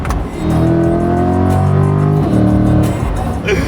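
A car in track mode accelerates hard, its engine note loud, close and rising steadily for a few seconds before briefly dipping, with a voice faintly present.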